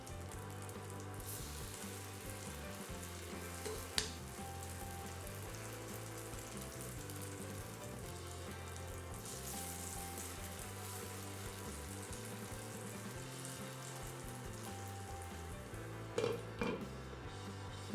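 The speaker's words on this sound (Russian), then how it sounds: "Также жарим все остальные оладьи." Pumpkin fritters fry in oil in a pan with a soft, steady sizzle that runs throughout, faint and even, broken by a few sharp clinks and knocks.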